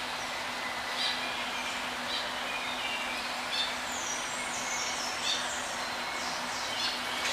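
Soft, distant bird calls and occasional chirps during pigeon feeding in a zoo's tropics building, over a steady low hum and background ambience; quiet, with brief calls recurring every second or so.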